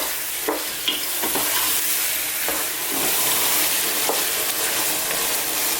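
Onions for a chicken curry sizzle steadily over fairly high heat, with a spoon scraping and stirring through the pan in irregular strokes and scattered sharper taps, close and loud with no voices.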